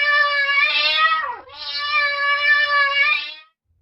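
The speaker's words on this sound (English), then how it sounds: "The cat says," A cat gives two long, drawn-out meows in quick succession, close and loud, with a brief break between them and no voices.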